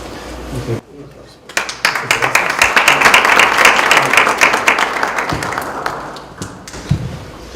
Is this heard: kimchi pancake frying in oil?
no